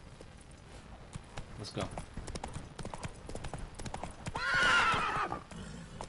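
A horse in The Witcher 3 video game gallops with rhythmic, close clip-clopping hoofbeats and lets out a loud whinny near the end, while someone briefly speaks over it.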